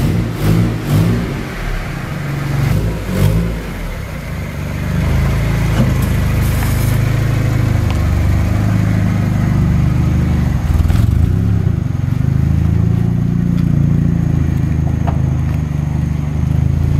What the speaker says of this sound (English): I want to drive this around at least, see how it runs.